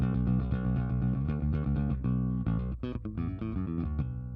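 Bass guitar played through a Line 6 HX Stomp with amp distortion, a continuous gritty riff of rapid plucked notes and shifting pitches, close and steady with no voices.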